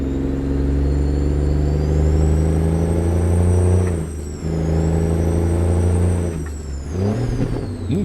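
A heavy truck engine drones loudly in American Truck Simulator while hauling a Volvo excavator, its pitch dropping and surging as a shift is missed, with the revs falling away before climbing again.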